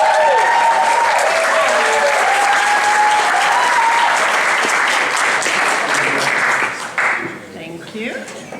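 A lecture audience applauding and cheering to welcome a linguistics professor, a dense sustained wave of clapping with whoops that fades after several seconds into a few scattered claps.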